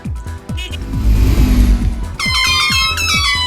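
A vehicle horn honks loudly in the video game Shelf-Life, arriving near the end after a roaring engine-like rush, with a rhythmic low thumping beat underneath throughout.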